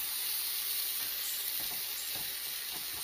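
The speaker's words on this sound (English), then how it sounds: "You can hear the sizzle of the bananas." Banana slices sizzle in cinnamon butter in a frying pan, a steady, close, bright crackling hiss that continues without a break and with no voices.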